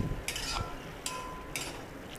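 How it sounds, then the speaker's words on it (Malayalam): A spoon scrapes through a pineapple avalose mixture in a pan, three short stirring scrapes close by, quiet between strokes. "ഇടയ്ക്കൊന്ന് നമ്മളത് ഇളക്കിക്കൊണ്ടിരിക്കണം"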